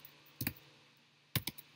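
Someone types quickly on a computer keyboard while coding, in two short bursts of close, crisp key clicks separated by a quiet pause.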